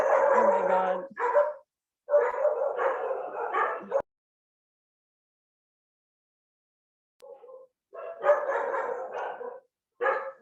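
A dog barks in several loud, close bursts, a cluster of yips and barks, then a long silence, then another short run of barks.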